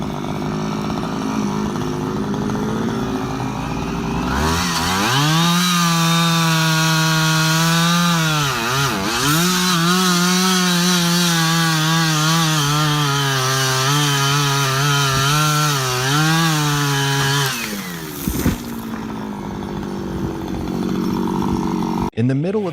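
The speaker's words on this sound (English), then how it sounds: "He starts the steel chainsaw, the engine roaring loudly." A steel chainsaw cuts through thick wood of an ancient forest tree, its engine roaring loud and close in a steady, sustained whine with brief dips in pitch as the blade bites, then a pause near the end.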